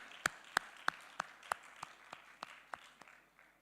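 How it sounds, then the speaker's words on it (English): A sparse round of clapping at a conference meeting: a few distinct, fairly close claps spaced about a third of a second apart, fading out toward the end, quiet overall and free of talk. "you deserve a resounding clap in this evening's meeting"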